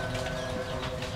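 A perkutut, or zebra dove, kept by a collector, cooing in soft, steady tonal phrases against a busy background hum, with no talking over it.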